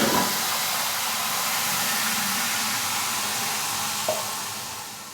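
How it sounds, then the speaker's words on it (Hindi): Frying onions in a pot, splashed with about half a cup of water while making aloo chana pulao, give a loud, steady hiss and sizzle that slowly softens over several seconds. "तो अभी प्याज का कलर निकालने के लिए पानी का तड़का लगाएंगे।"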